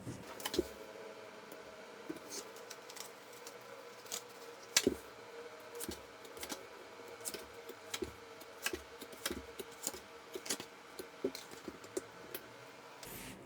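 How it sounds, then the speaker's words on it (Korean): Tarot cards drawn from a deck make scattered light papery clicks and sharp snaps, some louder than others, over a quiet background for several seconds, with no speech. "잠시 심호흡 하시는 동안 제가 카드 뽑아 볼게요"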